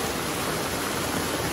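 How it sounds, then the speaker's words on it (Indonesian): Water rushes steadily downhill into a river beside a village path, a loud, close, continuous broadband roar like a small waterfall or stream, with no voices heard. "Air ini teh langsung ke sungai."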